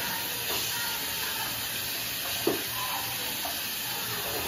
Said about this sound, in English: But I need to rinse my face off.